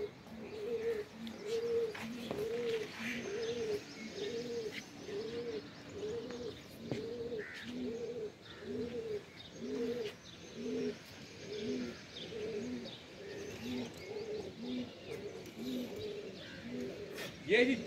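Pigeons coo in a steady, repeating rhythm close by, with soft bird chirps scattered over a faint background hum.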